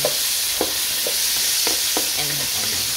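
Garlic and onion sautéing in a pan: a constant close sizzle broken by regular scraping strokes of a spatula, roughly one every half second, with no talking.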